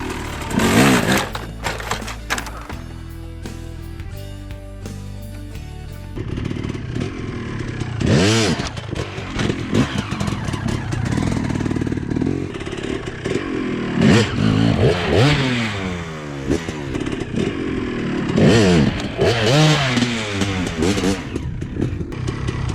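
Dirt bike engine blipping and revving hard in repeated bursts while the rider jumps logs on a trail, with clattering and scraping between throttle stabs, loud and close.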